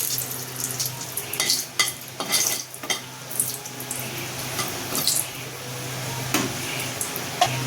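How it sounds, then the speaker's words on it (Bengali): Cumin, bay leaf, cardamom and dried chili sizzling in hot oil for a dal, a steady close frying hiss with stirring and the clink of a utensil against the pan. "জিরা দিয়ে দিলাম, এরপর দেব তেজপাতা আর এলাচ, এরপর দেব শুকনো মরিচ"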